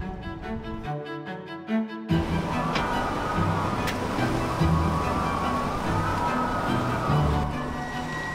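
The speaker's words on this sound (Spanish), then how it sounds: "Las olas cada vez van a más." Mediterranean sea waves wash and surge continuously as the wind rises at the start of a storm. A brief tonal passage at the start gives way to a dense, steady roar of surf and wind.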